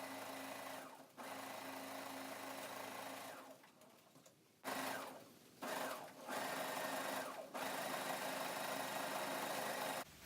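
A sewing machine stitches French seams on a fabric crib sheet, running in several steady bursts broken by brief pauses, close and fairly loud with no talking.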